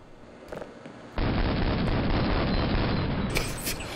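A loud grenade blast in the video game Half-Life 1 booms in suddenly after a quieter stretch, then holds a sustained roaring rumble for several seconds before tapering slightly.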